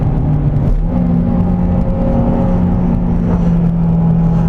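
A modified Mazdaspeed3 accelerates with a little wheel spin, its engine giving a loud, steady whirring drone heard from inside the car with no talking.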